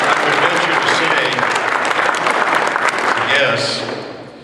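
A round of applause for young people at a water department's 100th anniversary event, steady dense clapping from a crowd that holds for about three and a half seconds and then tapers off.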